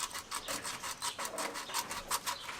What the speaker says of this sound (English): I'm just going to open these up and put a piece of sandpaper in there and clean them up.